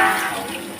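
Water pours into a pot of country chicken being braised on low heat, a brief close splash and gush that fades quickly, with no talk.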